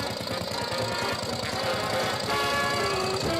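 A 1910 single-piston motorcycle engine of 31 cubic inches idles at a vintage motorcycle club meet at a firehouse, a rapid, steady mechanical knocking and chugging heard close and loud throughout, with no talking.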